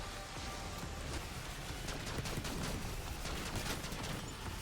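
Dense, continuous gunfire from a zombies video game boss fight on the Terminus map, a steady wall of shots at even loudness with no voices.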